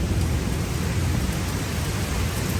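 Heavy rain pours during a thunderstorm as a dense, constant wash of noise with a deep low rumble underneath, loud and unbroken throughout.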